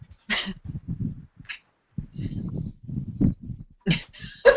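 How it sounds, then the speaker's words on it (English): A dog barks a few times in short bursts, close by, with low rumbling sounds and some muffled noise between the barks. "So sorry, my dog's barking."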